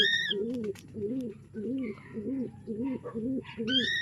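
Opal homing racing pigeons with their squabs coo in a close, steady series of soft rolling calls, with a few higher chirps mixed in.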